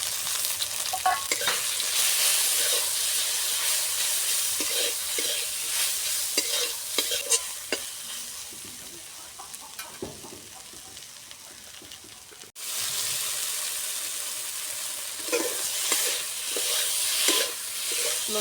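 Taro stolons sautéed in a pan with turmeric, salt, chili powder and cumin paste: a steady sizzle under repeated spatula scrapes and stirring strokes, close and continuous, with a brief break partway through.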